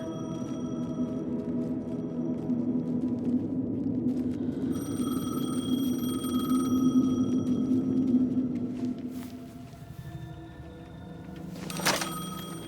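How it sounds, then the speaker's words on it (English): A payphone rings in Alan Wake 2, a steady electronic ring heard over a low droning game score, with a brighter burst of ringing near the end and no talking. "The payphone was ringing."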